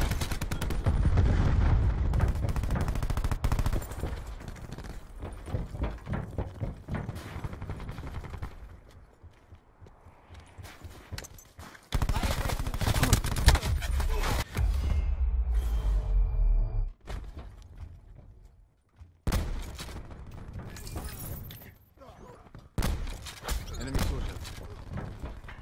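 Rapid gunfire and heavy blasts from a shooter video game erupt in dense bursts, broken by short lulls and then resuming loudly, near and dominant throughout.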